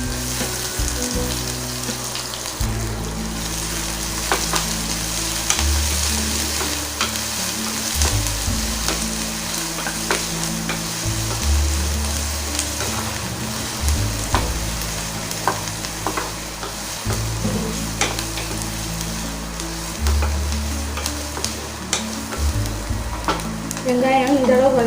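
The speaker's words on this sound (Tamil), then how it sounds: "ஒரே ஒரு பெரிய வெங்காயத்தை பொடியாக கட் பண்ணி வச்சுட்டு அதை சேர்த்துக்கலாம்" Finely chopped large onion hisses and crackles steadily in hot oil with popped mustard seeds and curry leaves. Occasional stirring scrapes cut through the sizzle. The sound is continuous and fairly loud throughout, with no one speaking.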